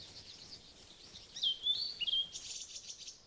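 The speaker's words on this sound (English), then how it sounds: "Yes, I hear birds." A bird sings a few high, thin chirps and trills in a park against a quiet background, soft and somewhat distant.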